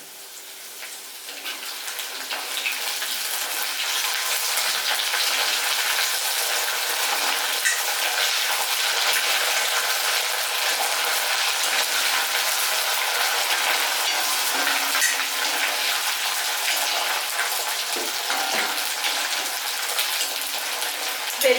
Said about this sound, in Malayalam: ഈ കറിവേപ്പില അത്യാവശ്യം വെള്ളമൊക്കെ ഉള്ളതുകൊണ്ട് ചിലപ്പോൾ ഒരു ചടപട സൗണ്ടൊക്കെ കേൾക്കാൻ സാധ്യതയുണ്ട്